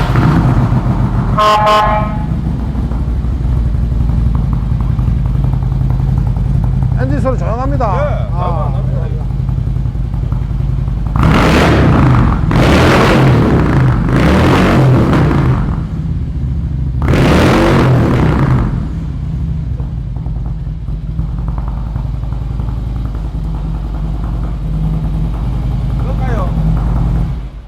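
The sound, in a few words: Harley-Davidson Road King motorcycle engine with tuned exhaust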